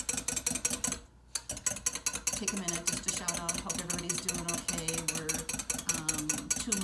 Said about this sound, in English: So just whip this together for about a minute until it's frothy.